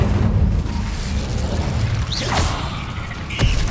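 Incendio, the fire spell in Hogwarts Legacy, is cast in a dense game soundscape: a sweeping whoosh and a rising swish cut through a constant loud rumble, followed near the end by a sharp burst.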